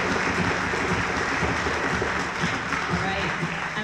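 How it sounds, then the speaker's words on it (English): A concert audience applauds the TSO5 student ensemble, a short burst of dense clapping with voices mixed in, steady and fairly loud from start to finish. "Can we give TSO5 another round of applause?"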